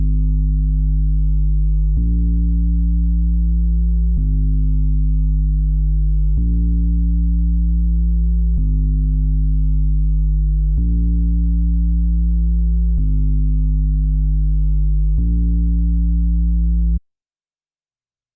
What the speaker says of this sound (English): his next sound is an 808